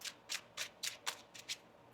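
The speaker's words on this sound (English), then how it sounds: "One more shuffle here." A deck of tarot cards being shuffled in quick riffling bursts, about seven short papery flutters in under two seconds, close and fairly quiet.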